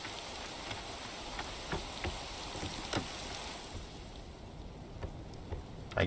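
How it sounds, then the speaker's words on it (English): Steady rain patters in the Rising World video game, a dense, even hiss of falling drops with occasional louder taps, running continuously without talk. "Whoa, gotta get in from out of the rain."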